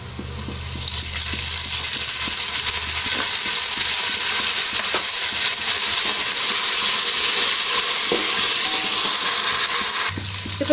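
Mint leaves and green chillies fry in a hot pan with a dense, steady sizzle and light scraping clinks throughout, easing off just at the end.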